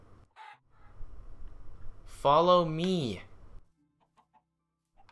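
A Minecraft chicken clucks, a short rising-and-falling squawk in the middle of the passage, while someone speaks over and around it.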